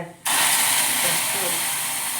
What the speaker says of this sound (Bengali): এবার আমি দুধটা দিয়ে দেবো, একদম পুরো ভাজা ভাজা হয়ে গেছে। দুধটা দিয়ে দিচ্ছি 1 চামচ।